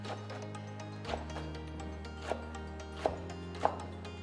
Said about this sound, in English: What I will do is to take the leaves and cut them into some